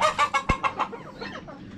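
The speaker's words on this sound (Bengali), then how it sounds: "এই যে মুরগিরা, ছোট্ট একটা খামার করা হয়েছে, এখানে অনেকগুলো মুরগি এখানে রাখা হয়েছে।" Chickens in a small rooftop coop cluck while eating, a quick series of close, clear clucks that trails off into softer murmuring.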